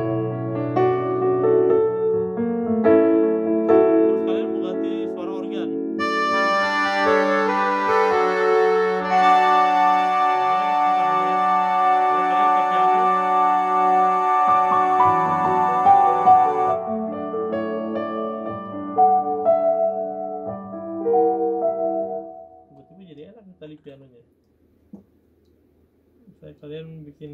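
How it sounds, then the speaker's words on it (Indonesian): An Italian grand piano voice on a Korg Grandstage stage piano plays sustained chords and melodic lines, rich and resonant, building in the middle and then decaying to quiet near the end. "suara Italian piano nih"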